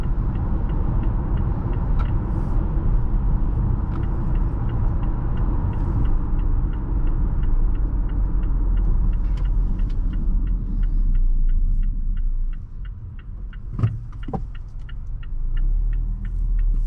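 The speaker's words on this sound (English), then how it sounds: "the noise is really, really minimal in this car. Tire noise is more present than wind" Cabin of a 2022 Mazda CX-5 2.5 Turbo all-wheel drive on the move: a steady low rumble of tire roar with a lighter wash of wind, constant and moderately loud, with faint ticking and a couple of brief knocks near the end.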